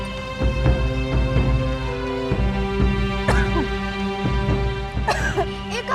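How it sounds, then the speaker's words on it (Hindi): A person with asthma coughs repeatedly in harsh, wet bursts in a film scene, several close coughs over a steady background hum with some voice in between. "इतनी खांसी?"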